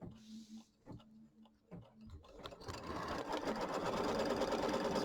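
An embroidery machine starts up and stitches a fabric placement line, its steady rapid mechanical chatter building after a few seconds of quiet clicks and handling noises.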